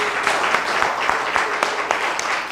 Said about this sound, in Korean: 지금까지 열심히 고생해주신 양성길 교수님께 다시 한번 큰 박수 부탁드리겠습니다.